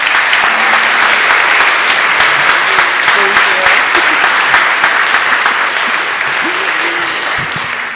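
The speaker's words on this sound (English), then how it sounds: "Let's give Kimberly one more round of applause." Church congregation giving a round of applause during a Sunday service, loud, dense and sustained clapping filling the room, easing slightly near the end, with faint voices beneath.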